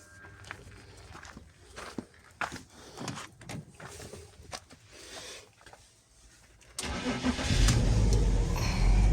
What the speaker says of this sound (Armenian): Եվ շարժիչ ընկավ գործի։